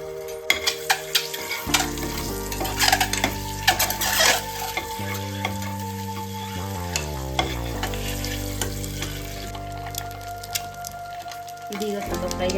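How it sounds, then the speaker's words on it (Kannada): Halved boiled eggs fry in hot oil in a pan for egg biryani, a continuous crackling sizzle with scraping stirs and occasional clinks of a utensil against the pan, close and moderately loud. "ಸ್ವಲ್ಪ ಫ್ರೈ ಮಾಡ್ಕೊತೀನಿ."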